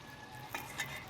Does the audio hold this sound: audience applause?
no